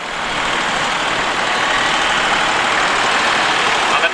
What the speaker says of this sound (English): the Nuffield there with a 4-cylinder diesel engine